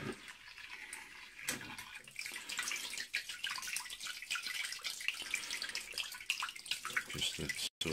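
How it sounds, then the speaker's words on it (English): Tap water runs steadily into a basin where a 200mm telescope mirror is soaking, a continuous close splashing and trickling with small drips throughout. "I leave it now here until the water comes floating over it."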